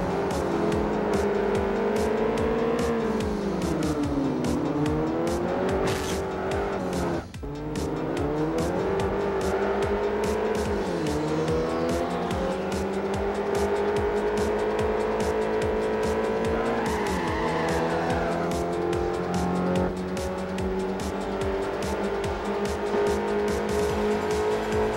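A Renault Megane race car in Forza Motorsport 4 at the Circuit de Catalunya, its engine droning loud and continuous for the whole stretch, pitch rising and falling through gear changes, with tyre squeal and a brief dip midway.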